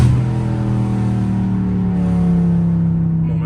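A catless Dodge Scat Pack's engine holds a loud, close, droning roar with a steady low tone, which shifts slightly partway through and then eases off at the end. No one speaks.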